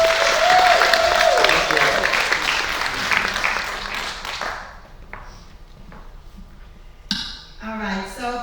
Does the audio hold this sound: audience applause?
yes